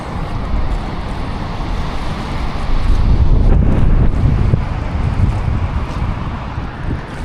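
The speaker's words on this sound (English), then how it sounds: "Ooh, is the wind changing direction a little bit?" Strong wind buffeting the microphone at a fishing spillway, a continuous loud roar that swells in the middle with faint water and rumbling beneath, no talk.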